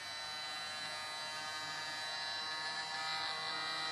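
A steady, thin electric whine and buzz from a Parkside 20V cordless heat gun running continuously at low volume, with no voices.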